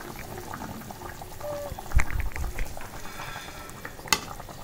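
Curry bubbles in a cooking pot with a steady low simmering hiss and popping, broken by a few clanks and stirring bursts partway through.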